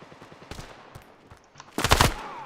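Gunfire in the mobile shooter game Standoff: a few scattered shots early, then a loud, dense burst of rapid automatic fire near the end.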